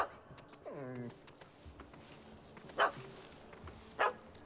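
A dog in The Witcher 3 barks and yelps at a cat stuck up a tree, with a rising whine early on and then two short, sharp barks at a moderate distance over quiet outdoor ambience.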